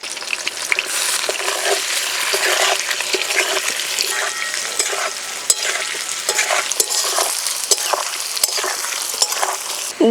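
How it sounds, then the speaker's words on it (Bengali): Pieces of taro root fry in oil left over from frying bata fish, giving a steady crackling sizzle with bubbling hiss and occasional stirring scrapes throughout. "মাছ ভাজা তেলেই গাটি কচু ভেজে নেব।"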